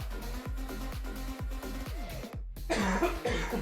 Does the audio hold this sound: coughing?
yes